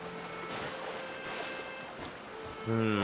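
A waterfall in Genshin Impact gives off a steady, broad rush of falling water, with faint tonal game sounds over it and a brighter musical chime rising at the end.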